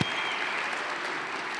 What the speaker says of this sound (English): let's give a big round of applause to our 2024 Broyles Award class